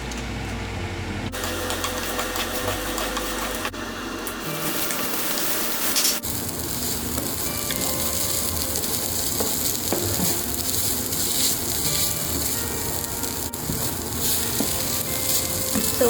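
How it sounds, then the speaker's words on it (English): Nuts and seeds toasting in a dry pan give a steady, close sizzle with soft stirring scrapes, continuous and fairly even from start to finish with no one talking. "We will start toasting the nuts and seeds."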